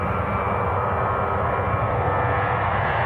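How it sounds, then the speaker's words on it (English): A Ryanair passenger jet approaching Manchester Airport gives a steady, fairly loud engine roar throughout, with no talking. "This is a Ryanair about to charge past us."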